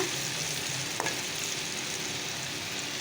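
Vegetables and bitter gourd frying in pans give off a dense, continuous sizzle and crackle at close range, with one brief clack partway through.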